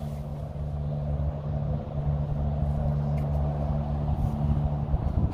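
A nearby car with a broken muffler gives off a loud, steady low rumble beside a lakeshore, with a sustained droning hum layered in and no break in the noise.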